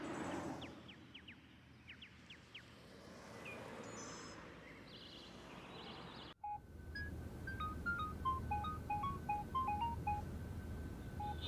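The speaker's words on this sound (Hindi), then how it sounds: "तुम्हारा फोन आ रहा है" A phone ringtone plays a repeating electronic melody of short bright notes, moderately near, following a burst of chirpy sounds and background hum.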